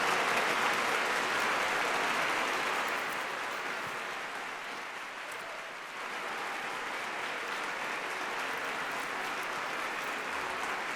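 An audience at a Lagos party-themed comedy show applauds continuously with dense, even clapping, dipping briefly midway before swelling again, with no talking over it.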